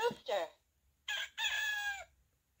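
A rooster crows as a sound effect from a children's farm-story sound book, two close, clear bursts of crowing with a short cluck-like call before them, heard alone.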